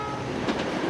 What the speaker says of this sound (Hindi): वो रेल कितनी तेज थी, कितनी तेजी से निकल गई थी ना